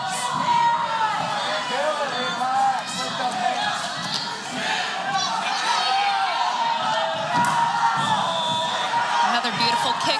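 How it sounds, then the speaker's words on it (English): A packed arena crowd roars and cheers throughout a regional MMA bout, with whoops and a dense wall of shouting voices that swells and dips but never fades. "The crowd is going crazy."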